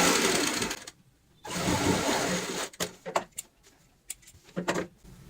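A sewing machine stitching a cushion cover runs in a fast whirring burst, pauses, runs again, then makes short stop-start bursts of stitching with clicks between, close by.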